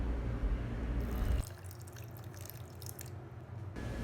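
Hot water trickles from close by into coffee and sugar for dalgona coffee, a soft pouring splash that starts a second in and runs for a couple of seconds over low room noise.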